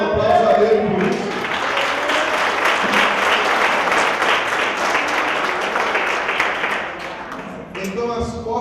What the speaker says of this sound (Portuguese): Dê um aplauso a ele por isso.